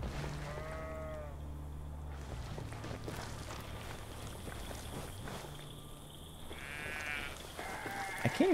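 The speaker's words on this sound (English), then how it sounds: "Little mountain goats or something, little rams." Mountain goats or rams in Ghost Recon Breakpoint give a few wavering bleats, one early and another near the end, over a steady low ambient hum with faint background sounds.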